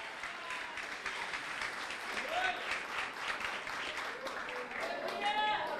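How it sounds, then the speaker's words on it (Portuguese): A church congregation applauds in steady, dense clapping that carries on throughout, with voices calling out and mixing in over the hands. "Aplauda Ele, glorifica Ele"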